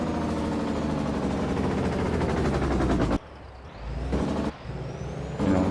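An old tri-drive Mack truck runs loud and rough at close range, a heavy steady engine rumble with abrupt cuts and surges in level, with no talk over it.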